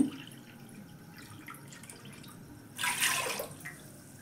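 Water is poured into a cooking pot for rice, three bowls' worth for a soupy rice dish: a faint, low trickle swells into a brief, bright gush of splashing near the end, then tapers off.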